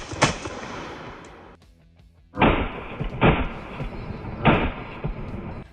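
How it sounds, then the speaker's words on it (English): Two rapid blasts from a TR Imports Silver Eagle Inertia One budget shotgun, the second following closely on the first, then a third loud report, each sharp and punchy with a ringing tail, close and loud after an earlier shot. "So he fires one shot, and it just right after that it fires another one"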